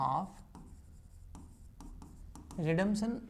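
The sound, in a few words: writing on a board while noting a journal entry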